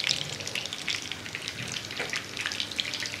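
Chicken kebabs fry gently in oil over a low flame, giving a soft, steady crackle and light sizzle of small pops, fairly quiet and close with no talking.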